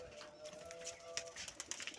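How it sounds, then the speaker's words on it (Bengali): Pet pigeons in a loft, faint soft cooing and light rustling, quiet and close, with small scattered clicks and flutters. "তো এই যে দেখতে পাচ্ছেন আমার কবুতরগুলো।"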